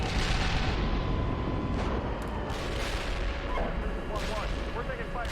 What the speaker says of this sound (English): It was artillery. It was a blast on top of the tanks.